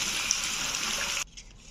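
Water pours onto a potted plant with yellowing leaves in a steady gushing stream for just over a second, then cuts off abruptly, leaving faint drips and quiet.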